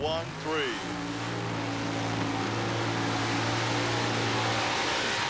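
A Chevrolet-powered Jeep roars down a mud racing track, its engine pitch dropping and settling into a loud, sustained drone, with a voice talking under it at the start.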